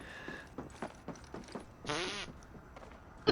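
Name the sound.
fart sound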